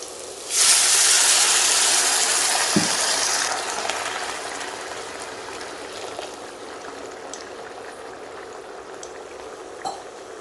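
Water is poured into a pot for soaking basmati rice, a loud rushing splash starting abruptly and tapering into a softer steady trickle and hiss, with a faint clink partway through.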